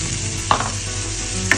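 Onion sizzling in a hot pan for a tuna sandwich, a steady crackling fry with two brief clinks of a utensil stirring, close and alone.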